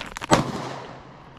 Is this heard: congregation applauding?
no